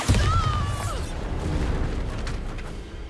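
The Bombarda spell explosion in Hogwarts Legacy: a single loud blast at the start with a brief rising magical whistle, then a rumbling tail that slowly fades.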